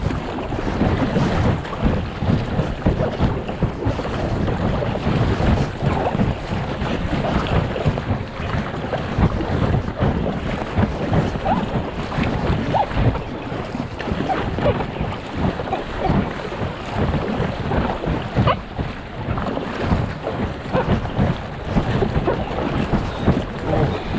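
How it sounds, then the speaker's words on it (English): A boat runs through river rapids on the Limmat, with continuous loud rushing water and heavy wind buffeting against the microphone throughout, the churning broadband roar never letting up. "not even 30 seconds on the water and I'm already hitting rapids."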